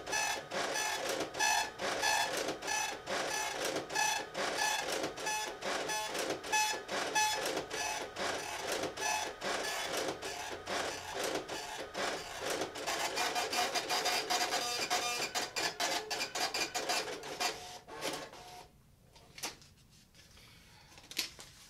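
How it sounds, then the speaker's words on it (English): An impact receipt printer chatters steadily in dense, rapid mechanical bursts, loud and close, running continuously before cutting out near the end with a final faint clack. "And I'll print that same receipt with the impact printer."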